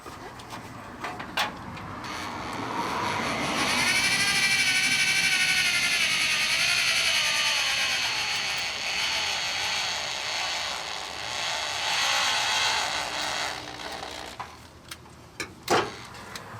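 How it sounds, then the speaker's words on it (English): A 1980 Ford F-350 service truck engine cranked over several revolutions while priming the oil system, a loud steady whirring mechanical drone that rises, dips and rises again before stopping with a few clicks. "let's go ahead and start pulling the engine through a few revolutions while we have it priming"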